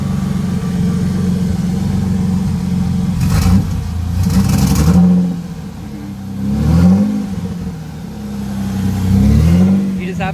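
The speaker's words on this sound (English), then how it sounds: "hit the gas a few times, you'll see how it stumbles" A turbocharged V6 Ford Mustang engine revs up and down in three or four uneven surges, the pitch rising and falling irregularly as it stumbles, loud and close with a steady rumble between blips.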